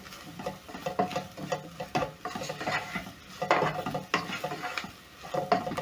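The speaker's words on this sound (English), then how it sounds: "Mix the seasoning together with the meat." Pilau masala seasoning and meat stirred together in a pot, giving a steady run of scraping, rubbing strokes against the pot at a moderate level, with no voice over it.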